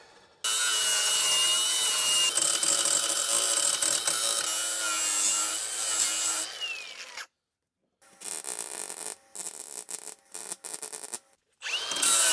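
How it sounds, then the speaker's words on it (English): An angle grinder works on rusty 22-gauge OEM sheet metal of a Jeep, a loud, sustained, harsh whine that cuts out briefly and then returns in several shorter bursts, with no talking. "Going to go ahead and hit it with the grinder and call it good"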